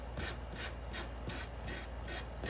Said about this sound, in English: let me hit this with the sanding block here